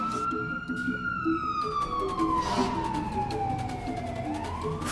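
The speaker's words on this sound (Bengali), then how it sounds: "ফায়ার সার্ভিসের গাড়ি মাত্র যাচ্ছে" A fire engine siren wails past in a long, slowly falling and rising tone over a steady road rumble, loud and close, with no talk.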